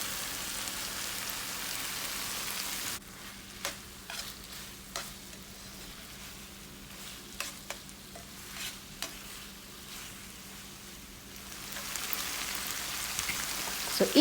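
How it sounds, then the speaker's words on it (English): Spices sizzle softly in a pan for a chicken mushroom pie, with a low steady frying hiss broken by scattered clicks and scrapes as the mixture is stirred, no voices over it. "just go ahead and stir it around, let it cook, let the spices cook down"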